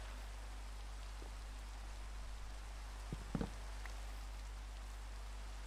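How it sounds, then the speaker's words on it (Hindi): Steady rain hisses evenly in the Minecraft video game, a constant wash of noise with a couple of brief clicks near the middle and no talking. "अब बारिश है"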